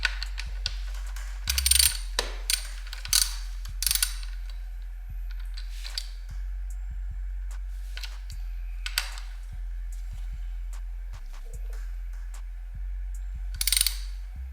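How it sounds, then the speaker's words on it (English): A ratchet wrench tightens a bolt while axle sliders and caliper spacers are fitted to a Ducati motorcycle, giving repeated crisp clicking bursts with short pauses between them in a quiet garage. "I'll use the wrench when I want to get it tighter."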